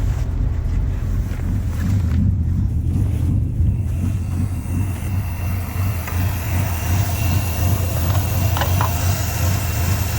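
A Ford Foxbody with a swapped Coyote V8 idles steadily with a deep, continuous low rumble, close and loud, buffeted by wind noise on the microphone.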